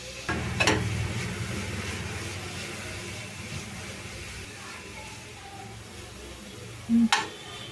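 Grated carrot for kheer fries in a pan with a continuous soft sizzle while a spoon stirs and scrapes through it, with a louder clatter near the end and faint talk in the background.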